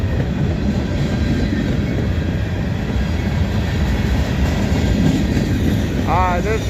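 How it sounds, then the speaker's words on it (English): Freight train of grain cars and covered hoppers rolling past at a steady pace, a continuous close rumble with clanking wheels, and a brief squeal near the end. "Alright, this train comes out of Hamlet."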